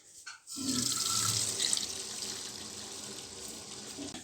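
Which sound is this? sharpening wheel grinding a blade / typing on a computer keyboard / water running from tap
water running from tap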